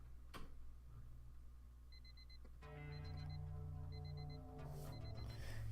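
Electronic alarm clock in the video game Love Shore beeping in short repeated bursts of paired tones, steady and fairly near over a low background hum, with no talking.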